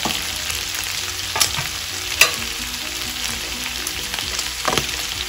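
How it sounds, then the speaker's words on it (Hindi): Goat offal fries steadily in a pan with a constant hiss as spices go in and get stirred, a few sharp scrapes and clicks rising above the sizzle. "मैं अभी मसाला में ऐड कर रही हूँ।"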